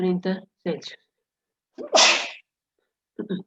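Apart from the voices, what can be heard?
sneeze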